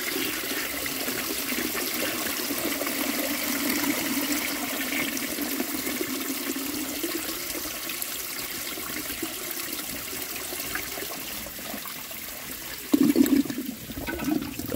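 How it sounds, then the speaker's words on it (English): A 1905 forward trap toilet with an overfilled tank flushes, a long steady rush of water that fades slightly, then a second surging flush near the end, close by with no talk. "Double flush."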